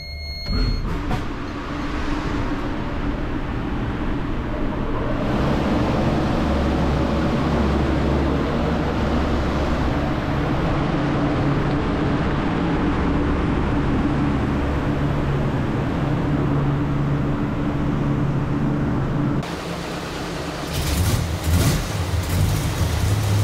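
A supercharged big-block engine in a Crown car rumbles and revs hard while staging at a drag strip, a loud sustained roar with rising pulls throughout and a sharper burst of revving near the end, no voices.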